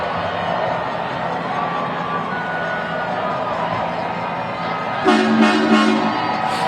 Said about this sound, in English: And the crowd is going wild.